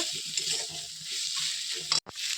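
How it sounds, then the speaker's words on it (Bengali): Mutton pieces frying with salt in a pan while being stirred, a steady sizzle with soft scraping of the spoon, ending in a brief sharp knock. "এবার আমি এতে স্বাদ মতো নুন দিয়ে দিচ্ছি এটাকে এবার আমি ভালোভাবে নেড়ে নিব"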